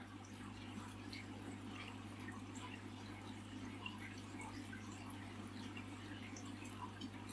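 Water falls into a nano aquarium, making a faint, continuous trickle over a steady low hum, quiet and unchanging throughout, with no speech.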